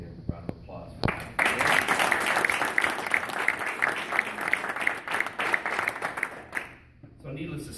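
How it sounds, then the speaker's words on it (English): A crowd at a retirement celebration honoring a man leaving after 32 years of service breaks into sustained applause, full and even for several seconds before tapering off, with a few scattered claps at the start. "give him a round of applause for that"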